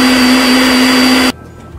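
A kitchen blender whirs steadily with a strong motor whine while blending a coating mix for chicken gizzards, loud and close, then cuts off abruptly and leaves quiet room tone.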